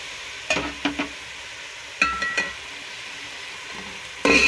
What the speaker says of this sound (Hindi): भुनाई करेंगे और बस अच्छी तरह से इसको भून लेंगे कोई पाँच मिनट